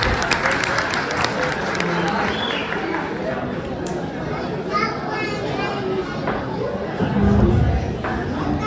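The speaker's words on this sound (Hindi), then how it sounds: "प्लीज आप लोगों से गुजारिश है कि तालियां जरूर बजा दें" A crowd claps at a children's gift ceremony during an Independence Day gathering in Germany, irregular hand-claps rising and falling over busy chatter and children's voices, swelling louder near the end.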